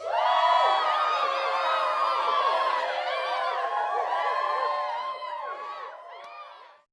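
A crowd cheers and whoops, with many high excited voices layered into a sustained, loud roar that gradually tapers off.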